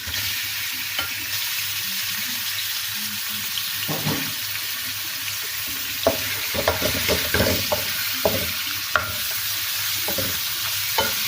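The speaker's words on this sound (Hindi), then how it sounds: "अब मैं इसमें तकरीबन आधा किलो चिकन डालूंगी।" About half a kilo of chicken frying in hot oil, a steady soft sizzle with scattered clinks and scrapes of stirring throughout, no voices.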